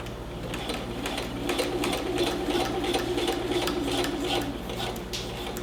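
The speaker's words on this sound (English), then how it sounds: "I'm trying to be careful to only sew" A sewing machine runs steadily, stitching twill tape onto a skirt waistband through a single layer of fabric, with a continuous close mechanical whir and rapid needle ticking throughout.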